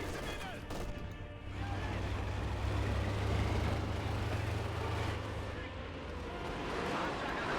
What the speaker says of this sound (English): Panzer with another barrage.